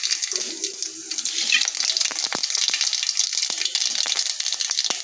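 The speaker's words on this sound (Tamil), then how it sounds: "கடுகு பொரியுது" Mustard seeds crackle and pop in hot coconut oil in a pan, a dense continuous sizzle with sharp irregular spits and snaps throughout, close and fairly loud.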